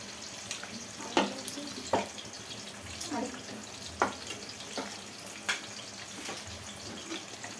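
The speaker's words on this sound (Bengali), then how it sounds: "প্রথমে আমি কাতল মাছগুলো ভালো করে ভেজে নিব" Katla fish frying in a pan, a steady soft sizzle with scattered sharp utensil clicks and scrapes throughout.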